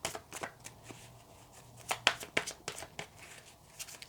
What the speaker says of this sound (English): I'm getting a workout here, trying to shuffle these cards